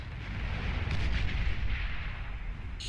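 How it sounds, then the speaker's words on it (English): Dense, continuous rumble of bombing-run explosions in the real-time strategy game Beyond All Reason, loud and sustained with overlapping low booms throughout and no talk. "Look at this bombing run."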